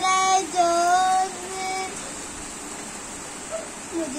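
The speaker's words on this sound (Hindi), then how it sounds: "देखिए गाइस बारिश आ रहा है जोर" Heavy rain falls in a steady, dense hiss that carries through the whole stretch, with a voice and some tonal sounds briefly over it at the start.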